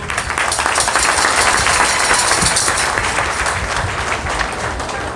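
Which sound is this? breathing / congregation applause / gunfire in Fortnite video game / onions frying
congregation applause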